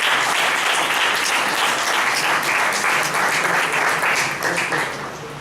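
An audience at a club meeting gives a round of applause for the meeting's conductor, loud sustained clapping from many hands that thins and fades toward the end.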